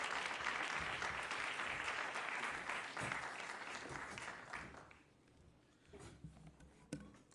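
An audience at the African Youth Forum applauds to welcome a speaker, a full round of clapping that fades after about five seconds into scattered lingering claps.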